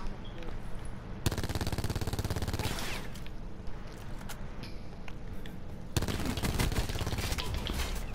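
Gunfire in Call of Duty 4 rattles in fast, loud bursts of sharp shots, with dense volleys at the start and again near the end and a short lull between.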